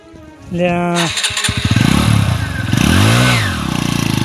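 A motorcycle engine kicks into life and then pulls away loudly as the clutch is let out, its revving putter rising and falling close by, with voices talking over it.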